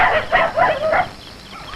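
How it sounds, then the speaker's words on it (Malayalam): A village dog barks several times in quick succession, loud and close, with sharp yelps that trail off into quiet. "ആരാത്? പോറ പട്ടി എവിടുന്ന്?"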